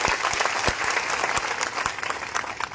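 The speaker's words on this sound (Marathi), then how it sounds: "तर टाळ्या वाजवायचा बंजारा समाजासाठी" A large crowd claps at a Banjara community rally, dense applause running throughout with sharp individual claps standing out near the front.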